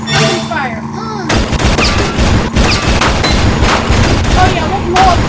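Rapid gunfire rattles through a Burnin' Rubber 5 car combat game, dense overlapping bursts and booms that run almost continuously, loud and close.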